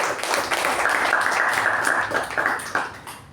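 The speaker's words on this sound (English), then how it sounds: "let's give a huge round of applause for our Sergeant Toastmaster Sergeant" A Toastmasters meeting audience claps for the Sergeant at Arms, steady dense applause that holds for a few seconds and then begins to fade.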